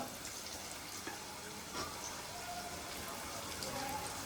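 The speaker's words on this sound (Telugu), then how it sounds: "ఈ ఉల్లిపాయలు త్వరగా వేగడానికి కొంచెం సాల్ట్ వేస్తున్నాను నేను ఇందులో" Sliced onions sizzle steadily in hot oil with salt added, frying for a potato kurma curry; a broad, even crackle runs throughout at moderate level.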